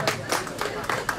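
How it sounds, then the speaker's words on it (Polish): Applause and clapping from a crowd at a ceremony for a sobriety run in Tomaszów, several close bursts of hand claps in quick succession. "Wielkie brawa."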